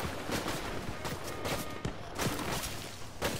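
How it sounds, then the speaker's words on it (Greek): Gunfire in a Fortnite match, scattered broadband cracks and bursts over a dense, busy game soundscape, with several sharp shots spaced irregularly rather than a steady volley. "Και ακούμε πυροβολισμούς."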